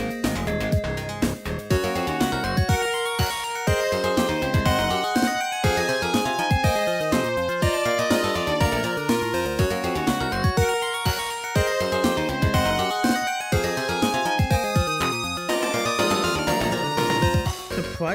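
Beta version of a Sonic game's credits theme, a dense, busy synthesized track with driving bass and rhythmic melodic lines, playing loud and unbroken throughout.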